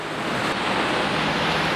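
Steady broadband roar of ocean surf washing onto a rocky shore at the bottom of a steep climb, continuous and fairly loud with some wind buffeting the microphone, no voices.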